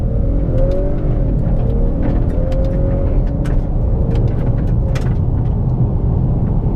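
A 2018 Honda Accord Sport with the 2.0-litre turbo and 10-speed automatic revs hard through paddle-shifted gears, a loud, steady engine drone heard from inside the cabin with rising pitch sweeps and no talking.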